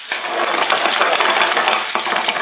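Lamb bones fry in a pan for a West African lamb shoulder curry, giving a loud, steady, dense sizzle with scattered scrapes and clinks as they are turned, with no talking.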